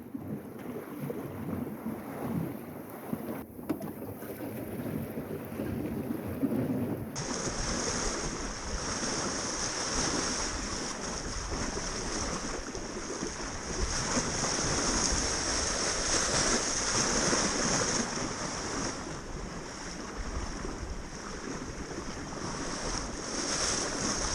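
Sea swell and waves wash steadily around a sailing boat in the Minch off Scotland's Outer Hebrides, with constant wind noise on the microphone throughout and no talking.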